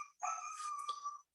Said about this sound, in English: it's just my dog barking.